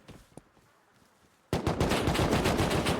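After a quiet stretch with faint clicks, rapid automatic gunfire in a video game erupts suddenly and loud, a dense continuous burst of shots lasting to the end.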